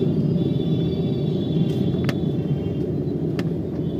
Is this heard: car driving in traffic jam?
yes